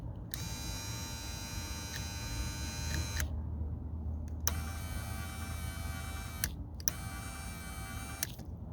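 A replacement car power window motor runs in three separate bursts, each a close, even electric whine that starts and stops sharply, with short quiet gaps between and no talking.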